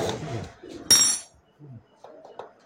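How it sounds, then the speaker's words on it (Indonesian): Rubber mallet tapping a part on a Honda CRF 150 motorcycle, a single sharp clack near the middle with brief knocking and soft handling sounds around it, close by. "Ini pakai palu karet ya."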